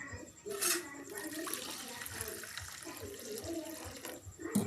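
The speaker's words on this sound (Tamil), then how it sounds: "உளுந்தை களைஞ்சிக்கலாம். நல்லா கழுவி எடுத்துக்கலாம்." Soaked urad dal being washed by hand in water, with steady sloshing and splashing throughout and a couple of louder running-water bursts near the start and end.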